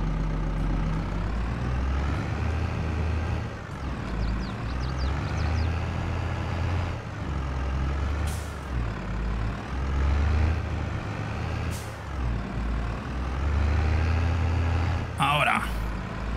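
Low, steady engine drone of a tractor straining to pull in Farming Simulator 22, humming beneath someone talking over it, with occasional brief clanks and bumps.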